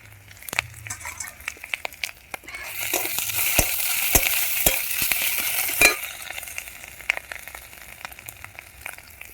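Green and dry chilies frying in a pan, a steady sizzle with stirring scrapes that swells loudly for a few seconds in the middle, then settles back to a lighter crackle.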